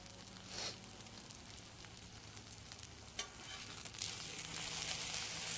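Pork sizzles steadily on a long-handled pressed steel pan over a fire in a makeshift shelter, a continuous crackling hiss with a few sharper pops and a slight swell toward the end.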